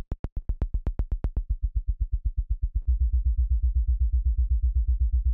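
A synthesizer note repeated by a trigger function pulses in a fast, even rhythm, shifting partway through to a deeper, fuller repeating tone that keeps oscillating, loud and alone.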